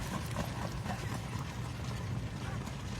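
Harness racing horses' hooves clip-clopping in a steady trotting rhythm at Buffalo Raceway during a two-year-old schooling session, under a constant rumble of outdoor noise, fairly faint and distant.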